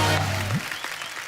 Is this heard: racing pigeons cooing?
no